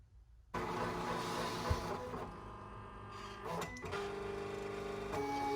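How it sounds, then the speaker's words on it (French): Silhouette cutting machine reading the alignment marks on a sticker sheet, a steady mechanical whir with motor hum and shifting tones as the carriage moves, starting abruptly and running close and fairly quiet. "la machine lit les repères d'alignement en entier, de haut jusqu'en bas"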